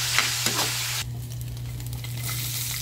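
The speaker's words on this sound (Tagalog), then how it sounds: "Gigisa ko siya sa sarili mong mantika." Pork sautéing in its own rendered fat in a pan for adobong kangkong: a loud, close sizzle with a couple of scraping stirs, then a steadier frying hiss.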